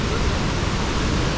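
Steady broadband roar of a waterfall in Chiapas, Mexico, heard up close; water pours without a break, loud and even, with no voices over it.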